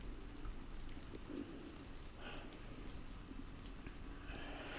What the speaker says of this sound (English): Doesn't stop raining.